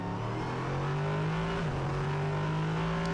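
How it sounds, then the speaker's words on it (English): Prototype race car engines roar around the Hockenheimring circuit in Germany, a loud, sustained high-revving drone with a steady pitch and a slight shift as a car passes, no talk over it. "Just listen to the roar of those mighty engines as they circulate around this circuit."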